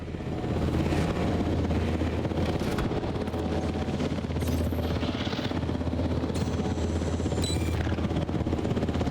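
Helicopter in the video game Jurassic World Evolution 3, a steady loud rotor drone with broadband wash running continuously, joined by brief higher-pitched bursts and clatter from other game action.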